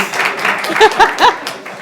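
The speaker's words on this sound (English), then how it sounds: "A big applause" Brief burst of audience clapping at a panel discussion on stage, with several sharp claps standing out, mixed with voices and lively crowd reaction.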